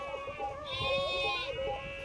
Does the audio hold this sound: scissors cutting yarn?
no